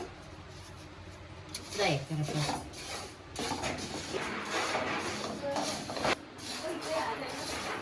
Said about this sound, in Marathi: सुपामध्ये काढून घेते आणि त्यामध्ये साफ करणार आहे शेंगदाणे